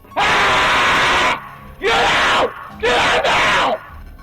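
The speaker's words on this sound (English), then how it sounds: "This intruder was screaming at the top of his lungs" Loud, raw screams from an intruder inside a home at 4 a.m., four long anguished bursts separated by brief pauses, close and unaccompanied.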